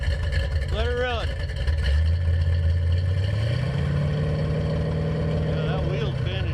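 A 1984 Ford Mustang GT350 Foxbody V8 runs in gear with a steady, close engine drone that climbs in pitch partway through, and voices are heard over it.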